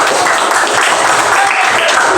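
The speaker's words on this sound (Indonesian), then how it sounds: "Tepuk tangan." A class of schoolchildren applauds in a loud, dense burst of clapping that runs throughout, close and continuous.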